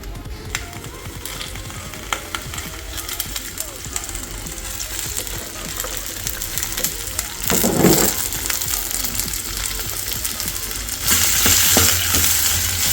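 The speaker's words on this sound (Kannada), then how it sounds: "ಚೆನ್ನಾಗಿ ಫ್ರೈ ಮಾಡ್ಕೊಂಡು ಒಂದು 5 ನಿಮಿಷದಲ್ಲಿ ಚಟ್ನಿ ರೆಡಿ ಆಗೋಗುತ್ತೆ" Green tomato chutney frying in oil in a pan, a steady crackling sizzle with occasional stirring scrapes, louder bursts near the middle and end.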